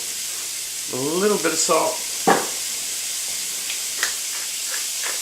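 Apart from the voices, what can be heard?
onions sizzling in a pan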